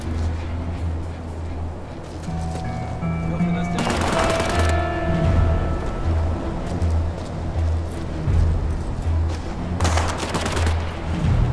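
Gunfire in the World War II stealth game War Mongrels crackles in bursts of machine-gun fire against a steady background rumble, with two louder volleys, and voices speak in between.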